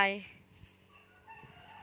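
Chickens at a rural Thai home sound off, a loud fowl call fading at the start followed by faint, scattered clucks with voices quietly in the background.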